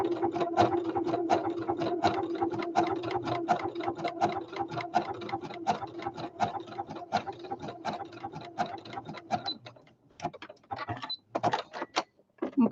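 A sewing machine runs a steady fast edge stitch around a fabric flower for a basket, even rapid mechanical ticking that stutters into uneven bursts near the end, close and alone.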